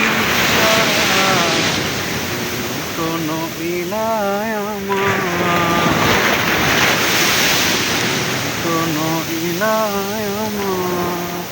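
Sea waves surging and crashing on the shore near Kerteh, Terengganu, Malaysia, a steady loud roar with wind buffeting the microphone and a voice speaking over it at times.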